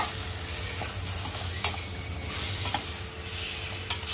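Spicy Malvani tempering sizzles steadily in a hot pan for mori (shark) mutton curry, a continuous broadband crackle with a low bubbling rumble and a few brief stirring clicks, close and alone without talk.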